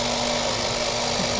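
A KitchenAid multi-cooker's stir tower churns steadily with a continuous motor whir and a sustained hum, close and even throughout.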